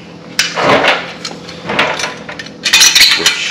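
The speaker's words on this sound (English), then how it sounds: "I gotta put the freaking heat shield back on." Metal clanks and clinks while a heat shield is refitted on a Harley-Davidson motorcycle, with several sharp metallic taps and rattles at close range, ending in a burst of jangling.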